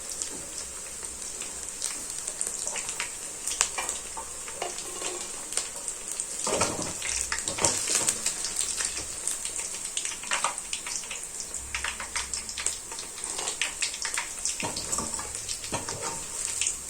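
Soya chunks deep-frying in hot oil for a street-food style Manchurian, a steady dense crackle and sizzle running throughout at close range with no talk.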